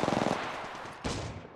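Rapid automatic gunfire in the Apex Legends Mobile video game: a quick rattling burst, a brief pause, then a second burst, close and sharp with no talking.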